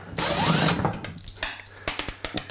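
Screws being backed out of kitchen cabinet hardware during a remodel: a short whirring burst followed by several small clicking ratchet-like ticks, close and fairly quiet, with no talk.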